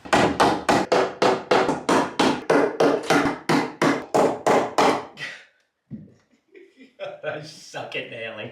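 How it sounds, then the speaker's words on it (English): Hammer driving nails into wood while a shed is wired, about seventeen sharp, evenly paced blows close by, followed by a pause and someone talking and chuckling. "I suck at nailing."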